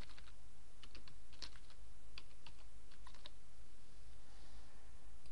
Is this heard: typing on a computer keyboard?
yes